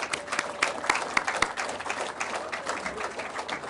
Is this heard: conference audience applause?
yes